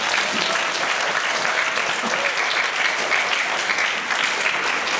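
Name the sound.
applause for the teachers at a school assembly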